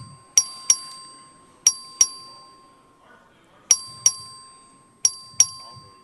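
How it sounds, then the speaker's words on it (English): A vote bell in a legislative chamber strikes in quick pairs, bright ringing tones repeated four times with pauses between, each decaying over a steady faint hum. "The clerk will ring the bell."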